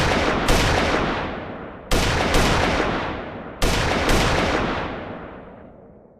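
Three loud, booming gunshots from a third-person shooter template built in Unreal Engine 5, each followed by a long decaying echo, fired alone at intervals of about two seconds with no talk.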